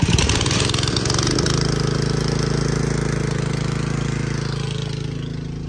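Small engine on a lawn spray rig cranks and fires up to agitate a tank of pre-emergent mix, then settles into a steady, close, droning run with no talk.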